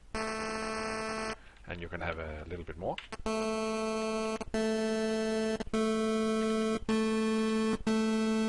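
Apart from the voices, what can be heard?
narrow pulse wave on SID chip in CheeseCutter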